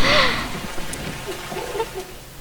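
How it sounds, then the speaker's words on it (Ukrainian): Rain sets in inside the video game ARK: Survival Evolved, a steady hissing wash of falling drops, fairly loud and continuous, with faint murmured sounds beneath it. "А, дождь пришел."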